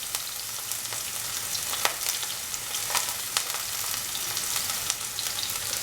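Onions, garlic and ginger fry in a pan for a village-style pumpkin and minced mutton keema stew, a steady close sizzle with scattered crackles and pops and no voices.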